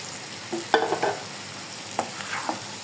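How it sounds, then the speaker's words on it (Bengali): Pre-fried potatoes tumble into a pan of spiced masala for aloo dum and get stirred, a few sharp scraping clatters over a soft steady sizzle, with no voices. "দেখো ভেজে রেখেছিলাম আলু, সেই আলুগুলিকে এখানে দিয়ে দিব"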